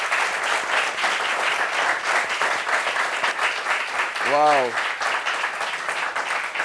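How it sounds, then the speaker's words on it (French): Sustained audience applause at a gathering, steady and full throughout, with a single voice exclaiming briefly over it. "Applaudissements pour elle, s'il vous plaît."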